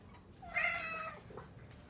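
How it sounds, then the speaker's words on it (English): A pet cat lets out a single drawn-out meow, close by and fairly clear against a quiet room background, with no one talking. "That's my cat."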